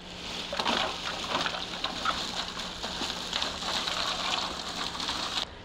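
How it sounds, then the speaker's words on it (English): A 7-pound bag of ice pours into a bucket for chilling brewing wort, a dense rattling clatter of cubes tumbling and knocking for several seconds, fairly close, with no talking. "I'm going to take a 7-pound bag of ice and put it right down the center"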